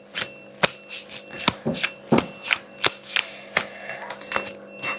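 Tarot cards being shuffled by hand, a steady series of crisp riffling snaps and soft slaps close up, with a faint constant hum underneath and no talking.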